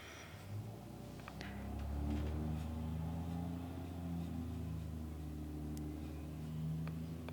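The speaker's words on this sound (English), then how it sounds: "You can hear a big truck out there." A big truck passes outside, a low rumbling engine drone swelling and easing as it goes by, heard faintly through walls at a distance, with no talk.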